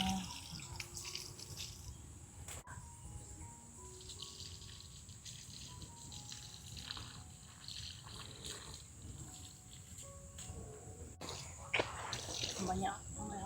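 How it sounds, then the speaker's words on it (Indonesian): Water is poured over water spinach plants in a garden bed. It makes a soft, continuous splashing and trickling at close range, with a few brief clatters. "Sudah mulai siram. Siram sesuai keinginan."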